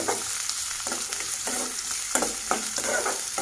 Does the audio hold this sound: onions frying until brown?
yes